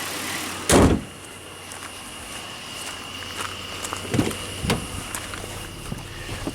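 The hood of a Buick LaCrosse with a 3800 engine slams shut once, a single heavy thud near the start, followed by quieter shuffling and faint knocks in a garage setting.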